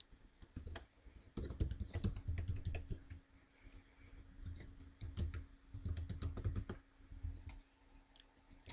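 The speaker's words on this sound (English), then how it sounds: "We're going to type in the second owner's name and date of birth." Someone types a name and date of birth into a vehicle registration form on a computer keyboard, steady bursts of close key clicks separated by short pauses, with no voices.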